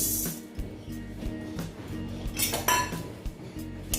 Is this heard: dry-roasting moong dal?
yes